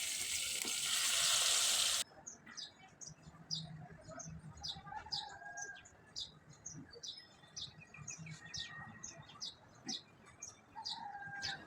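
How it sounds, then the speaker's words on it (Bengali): Koi fish drop into hot oil in a wok and set off a loud, dense sizzle for about two seconds. The frying then cuts away to a quieter scene of scattered bird chirps. "তেলটা ভালো করে গরম করে তারপরে মাছগুলো দিয়ে ভেজে নিব।"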